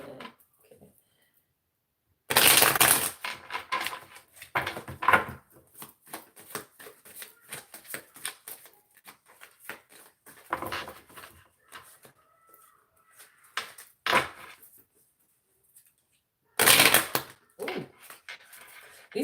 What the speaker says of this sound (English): These cards did not want to uh, shuffle that well.